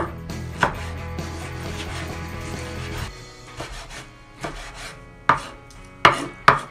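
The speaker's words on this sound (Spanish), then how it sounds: "cortando así picaditos de kimchi" A knife chops kimchi finely on a cutting board, sharp close knocks coming steadily at first, then sparser and louder single strikes after a short pause, with no talking.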